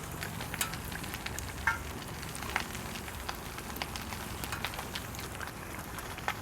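Empanadas frying in oil that fully covers the pastry as they are moved around, a steady soft sizzle with scattered pops and crackles throughout, fairly quiet, no talking.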